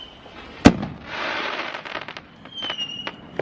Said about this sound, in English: It's fireworks because today is November 5th.